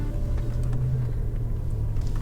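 Steady low engine rumble inside a comfortable car on a short drive, continuous and fairly loud with no talking.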